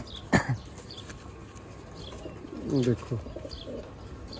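Rooftop pigeons in Sialkot coo in low, throaty bursts with a few faint chirps, close by, while a voice briefly speaks.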